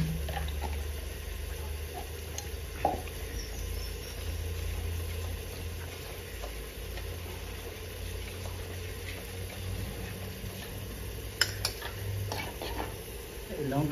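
A spoon stirs cumin powder and red chilli powder loosened with water in a clay pot, a soft continuous scraping and swishing over a steady low hum, with a few brief clinks near the end.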